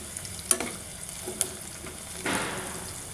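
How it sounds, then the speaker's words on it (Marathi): Cumin and onion frying in a pan, a quiet sizzle broken by a few clinks of a spoon stirring, then a louder burst of hissing near the end, close up. "कांदा 2-3 मिनिट परतून घेतलेला आहे."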